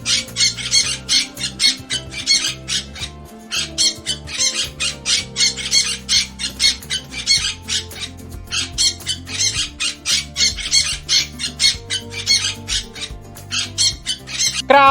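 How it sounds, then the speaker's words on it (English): A parrot squawks loudly and repeatedly in rapid harsh bursts with short gaps, close and alone for the whole stretch. "Parrot sound."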